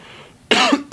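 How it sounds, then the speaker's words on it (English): A single sharp cough bursts out close to the mic, followed by the start of a second one, after a brief quiet stretch. "Sorry, I got the cough still."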